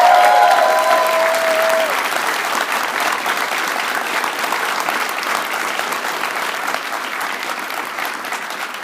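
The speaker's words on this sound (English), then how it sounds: "Please let's give them a round of applause to thank them for making all of this possible." Sustained applause from a conference audience at the International Students for Liberty Conference, a dense wash of clapping that stays steady and loud throughout, slowly easing off toward the end, with a brief tonal sound near the start.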